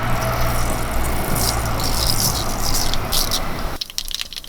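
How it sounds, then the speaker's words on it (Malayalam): Half a spoon of mustard seeds hits hot oil for a Kerala-style rose apple pickle. A dense, steady crackling sizzle fills the space up close, then cuts off abruptly near the end. "ഒരു അര സ്പൂണ് കടുക് ഇട്ട് കൊടുക്കാം"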